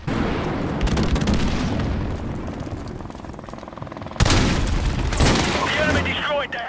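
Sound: RPG explosion in Call of Duty video game

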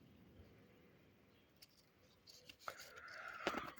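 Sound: scoring tree bark with a blade

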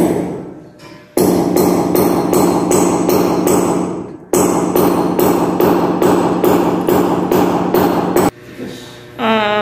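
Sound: hammer tapping on smooth floor to test thickness

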